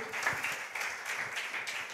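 A church congregation clapping during a Sunday worship service, soft and somewhat distant, an uneven patter of hands over a couple of seconds with a faint voice in the room.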